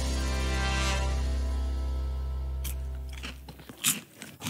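Someone chews a large mouthful of crunchy snacks, the crunching coming in irregular bursts near the end after a steady musical background fades out.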